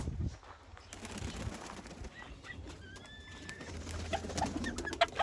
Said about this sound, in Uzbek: Bu yoqda kabutarlar bor.